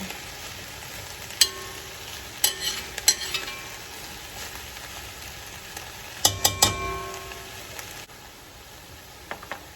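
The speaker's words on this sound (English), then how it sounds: "Just want to make sure everything's coated in the oil. And once everything's coated, we'll just let it sit here and cook for a little bit." Vegetables for Japanese curry sizzling gently in oil, a low steady hiss broken by several sharp clinks and scrapes of a utensil against the pot, then quieter sizzling.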